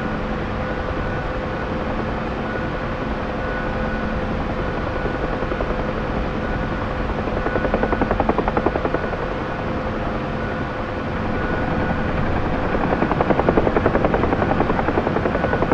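A UH-1H Huey helicopter in the DCS flight simulator drones steadily with a loud, continuous rotor and turbine hum and faint rhythmic blade chop that swells slightly toward the end; no voices.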